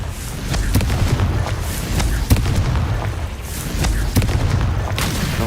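Confringo fire spell blasts in the video game Hogwarts Legacy, a dense loud rumbling roar punctuated by several sharp booming impacts at irregular intervals, with game effects throughout.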